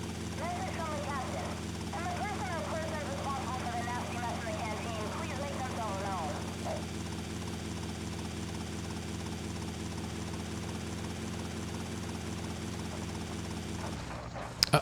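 Helicopter in the video game GTA Vice City on PS2, a steady droning rotor and engine hum running throughout at moderate level, with speech-like chatter over the first part and a sudden crash-like burst at the very end.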